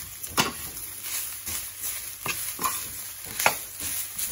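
Shrimp fried rice with vegetables gets stirred in a pan: quiet, widely spaced scraping strokes over a faint, steady background, with no talk.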